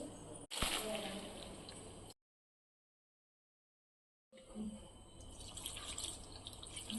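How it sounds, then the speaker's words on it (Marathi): Cooked pasta pours into a colander with a splashing, gurgling rush of draining water, broken by a gap of silence before running water resumes. "आता आपण तो गाळून घेऊ चाळणीमध्ये"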